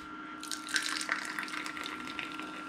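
An energy drink pours into a cup with a soft, continuous liquid trickle and a few brighter splashes, close and fairly quiet over a steady background hum.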